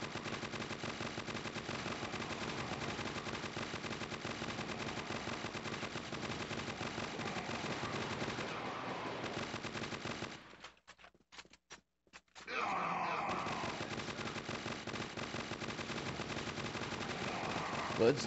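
Rapid continuous gunfire in the mobile shooter Crossfire: Legends during a hard zombie wave mode, dense automatic bursts that stop briefly for a reload before resuming, loud and constant.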